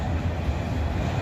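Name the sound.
train passing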